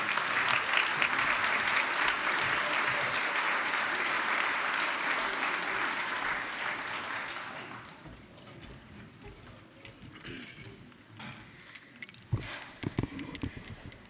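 Keynote audience clapping for themselves in a dense, sustained round of applause that fades after several seconds into scattered claps and faint room noise.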